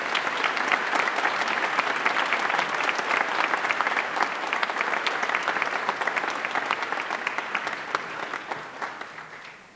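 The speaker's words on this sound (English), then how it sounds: "Let's give them a round of applause." A high school graduation audience applauds in a continuous, dense wash of clapping that holds level for nearly ten seconds before easing slightly at the end, with no talking over it.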